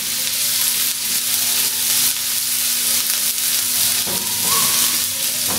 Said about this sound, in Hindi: अब मैं इसमें वो अदरक लहसुन का पेस्ट डालूँगी ताकि इसको लाइट से ब्राउन कर लें, हल्का सा इसको फ्राई कर लें